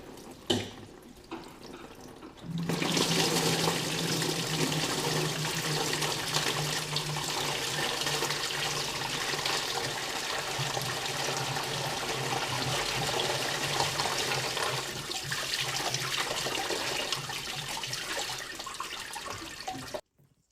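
Coolant and demineralised water drain steadily from the cooling system of a 1990 Alfa Romeo Spider during a descaling flush, a continuous close splashing pour that starts abruptly and runs on alone at an even level.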